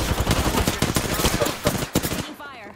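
Loud, rapid automatic gunfire from a video game rattles in a dense burst for about two seconds and then stops abruptly.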